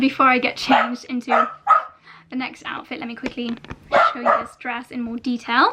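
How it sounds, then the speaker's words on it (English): A dog barks repeatedly indoors in short sharp bursts, several loud close barks scattered across the clip while someone talks over them. "Excuse the dog barking."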